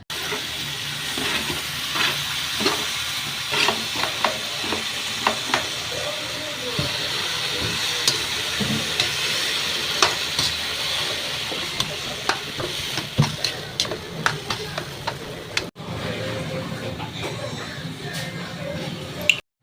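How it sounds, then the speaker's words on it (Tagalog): Shredded eggplant stirred into frying garlic, onion and tomato for poqui-poqui, a continuous close hiss and sizzle with frequent clicking scrapes of a spatula against the pan, low talk faint underneath. "tilagay na natin tong hinimay natin talong"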